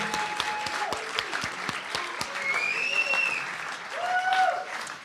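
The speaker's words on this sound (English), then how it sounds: "can we have a round of applause for the Proud Boys if we had any?" Applause from a crowd at a Gavin McInnes and Tommy Robinson meet and greet, a scattered round of clapping heard at moderate distance with some whistles and cheers rising over it.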